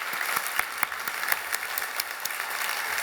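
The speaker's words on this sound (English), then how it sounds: "Let's do a round of applause for how incredible they were." Audience applause at a Boys & Girls Club foundation breakfast after dance performances, a steady wash of many hands clapping with a few sharper claps standing out, continuous throughout at moderate distance.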